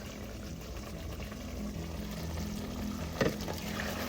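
Goat stew (kalderetang kambing) simmering in a pot, a low, steady bubbling and gentle sizzle with one brief knock near the end.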